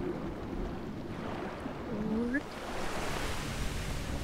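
Steady broadband rush of a waterfall in Tomb Raider: Anniversary, a continuous roar of falling water with a brief rising tone near the middle.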